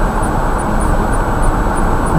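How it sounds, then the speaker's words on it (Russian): Engine drone and tyre roar fill a car cabin on the road, a loud steady rumble with no talk over it. "только шум двигателя и покрышек"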